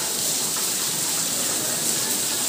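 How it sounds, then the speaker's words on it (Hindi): Heavy monsoon-type rain falls steadily and loudly during a trip to Baba Akhandalamani Dham temple, a continuous dense hiss with no breaks. "धूआंधार भाई वर्षा है"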